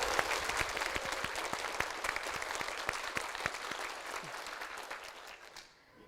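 A church audience applauds to welcome a pastor, a dense, sustained wash of many hands clapping at moderate distance that fades out toward the end.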